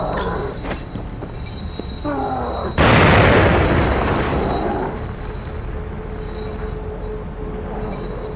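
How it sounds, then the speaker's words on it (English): A bomb explosion bursts loudly in The Evil Within, a sudden heavy boom that rolls into a long fading rumble over ongoing game noise, after some brief clatter. "Let's try throwing a bomb."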